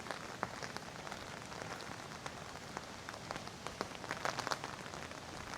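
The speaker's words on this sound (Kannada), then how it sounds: "ಮಳೆ ಬರ್ತಾ ಇದೆ ಸ್ವರ್ಗಾನೇ ಸ್ವರ್ಗ ಥರನೇ ಕಾಣಿಸ್ತಾ ಇದೆ" Steady rainfall patters on a surface during a ferry ride at Muppane, near Sagara, Karnataka, with scattered heavier drops ticking through a soft, even hiss.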